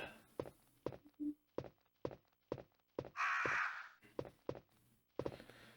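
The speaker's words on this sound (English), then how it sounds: "There are no zombies in here, no dogs or anything, just crows." Harsh caws from crows in a quiet Resident Evil game room ring out in a slow, evenly spaced series, with a louder raspy burst midway and soft thuds between calls.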